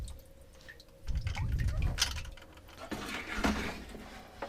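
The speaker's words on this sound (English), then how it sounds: "drain the water out of the pump a little bit" Water draining and dripping from an old sump pump pulled from a basement pit, a faint, close trickle with soft splashes and scattered drips over a few seconds.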